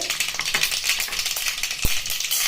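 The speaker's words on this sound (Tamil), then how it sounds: "இப்போ கடுகு பொரிஞ்சிச்சு" Mustard seeds splutter in hot oil for a tomato chutney, a dense, steady crackle of tiny pops with one sharper burst near the end.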